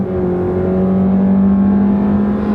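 A 2017 Honda Civic accelerating from a stop, a loud, steady, smooth engine drone with a rising hum and no gear-shift breaks, heard from inside the car without speech.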